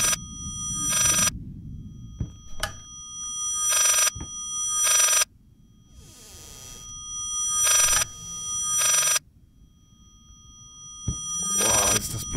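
A telephone rings in the horror video game Layers of Fear, sounding as loud, shrill repeated rings with short silent gaps between them, over a low eerie ambience.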